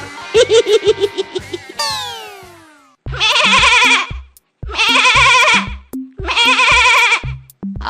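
A goat bleats in a cartoon scene: several long, loud, wavering bleats follow one another after an opening of short tonal calls and sliding whistle-like sounds.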